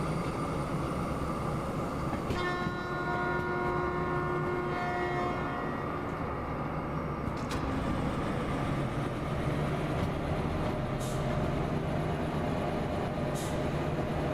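A train in the Derail Valley simulator game rolls uphill with a loud steady rumble, a sustained tonal whine fading in and out early, and faint clanks, with no talking.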